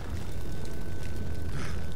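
A rumbling explosion in the shooter game The Darkness 2 on Xbox Series X, a continuous low roar with crackling debris that fills the short moment without speech.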